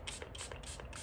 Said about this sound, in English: and spray that on the towel